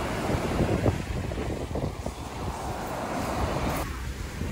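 Steady wind gusts buffet the microphone on a windy beach with seaweed washed in by the waves, a constant roaring rush with surf underneath and no voices.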